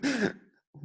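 A single short, sharp cough or throat-clearing burst close to the mic, then a moment of quiet and a faint low sound.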